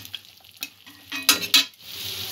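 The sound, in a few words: frying and stirring spice paste (masala)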